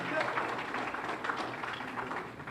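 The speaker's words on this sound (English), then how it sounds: "Round of applause." An audience applauds at a scholarship award ceremony, with steady, dense clapping that carries on throughout, heard from within the crowd at moderate volume, with murmured voices mixed in.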